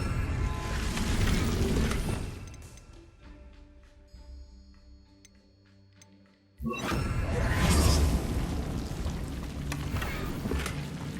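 Incendio fire spell cast in Hogwarts Legacy: a loud, broad rushing burst, a brief quieter lull with game sounds, then a second sudden roaring blast of flame that holds strong to the end.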